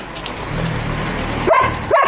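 A dog gives two sharp, close barks near the end, after a stretch of low background noise.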